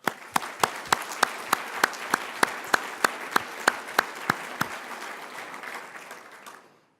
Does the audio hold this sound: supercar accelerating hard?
no